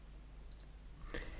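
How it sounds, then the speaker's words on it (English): A single short, high electronic beep, faint and tiny, the hourly chime of a Seiko digital watch, followed by a soft click in a quiet room. "So that was the hourly beep that we have on this particular model."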